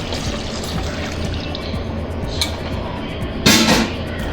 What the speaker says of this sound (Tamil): நம்ம அந்த தண்ணி பாலை சேர்ப்போம்.